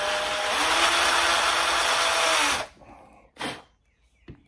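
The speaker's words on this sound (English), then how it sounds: "swap out our drill bits and kind of just recess this down just a little bit" A power drill whines loudly and steadily while recessing a hole into rubber, then stops, followed by a short second burst and a faint clatter.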